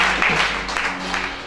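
A church congregation at a prophetic service in Gabon claps together in a dense, steady wash of applause lasting the whole moment, fairly close and loud, with a low steady hum and faint voices mixed underneath.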